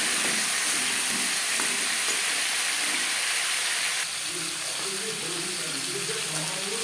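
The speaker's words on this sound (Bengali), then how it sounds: "তেজপাতা, শুকনো লঙ্কা ভেজে নেওয়ার পর দিয়ে দেবো কুমড়ো। আর দিয়ে দেবো পেঁপে।" Bay leaf, dried chilli, pumpkin and papaya fry in hot oil for a vegetarian moong dal khichuri, giving a steady close sizzle that softens slightly midway, with faint background voices.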